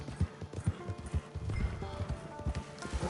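A horse's hooves in Red Dead Redemption 2 clop steadily and fairly close, in a quick, even rhythm over rocky ground, with a faint breathy snort among them.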